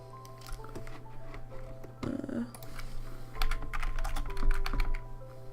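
Rapid, close typing on a computer keyboard: bursts of crisp clicking keystrokes over a low electrical hum, growing busier toward the end.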